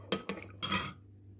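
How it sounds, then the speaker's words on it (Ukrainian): A spoon stirs a minced meat mixture with salt and spices in a bowl for meatballs, giving three quick scraping, clinking strokes against the bowl, close and brief. "Розмішую все до однорідної маси."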